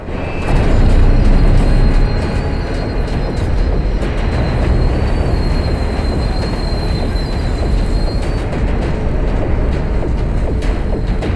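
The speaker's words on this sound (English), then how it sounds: "The train didn't bypass the track switch." A train rolls over a track switch loudly with a continuous rumble, metallic squeals and scattered clanks from the wheels on the track, no voices.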